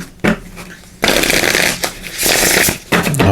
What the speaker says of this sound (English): So let's give these a good shuffle